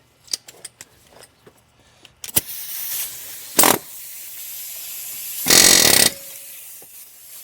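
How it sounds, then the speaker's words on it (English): Several loud bursts of a pneumatic air hammer hammering a rusty part on a Ford Ranger, with short sharp taps early on, a brief blast, then a longer sustained rattling run. "All right, so we're gonna use our air hammer here."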